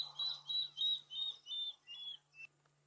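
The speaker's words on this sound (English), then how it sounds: "So that's another bird you might hear at night, the water thick knee." A water thick-knee's call plays at night: a series of about seven clear, whistled notes that slow and fade, each slightly lower than the last, over a faint steady hum.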